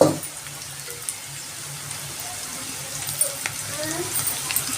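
Amaranth leaves hit hot oil in a pan and fry with a low, steady, watery sizzle, beginning with a louder burst and then settling into a soft continuous crackle with faint clinks.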